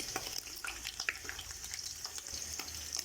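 Beef sizzling in hot oil for beef mandi biryani, a steady crackling fry with intermittent pops and light stirring scrapes, close and fairly quiet.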